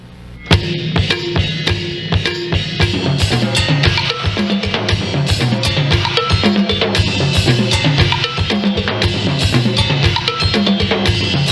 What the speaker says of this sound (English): we'll have a one-bar pattern that utilizes 22 different sound sources